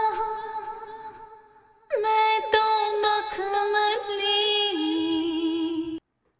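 A tonal sound processed with a two-echo stereo delay effect in GoldWave editing software: a sustained tone, then a louder chord-like passage with repeating echoes, ending in abrupt silence.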